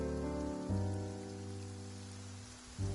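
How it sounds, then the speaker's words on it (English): Steady rain falls in the Genshin Impact game world of Fontaine. It is a soft, continuous patter layered under sustained tonal game music, with no talking. "It's raining."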